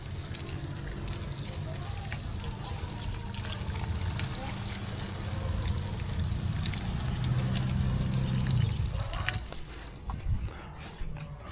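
Water sprays and splashes continuously onto oil palm seedlings beside a house, a steady hiss and patter, with a low pump-like hum underneath.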